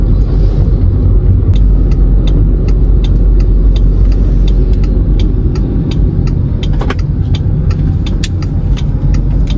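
A 2019 Proton Persona 1.6 Premium's engine drones from inside the cabin on a test drive, a steady low rumble with road noise and faint ticking, continuous and fairly loud.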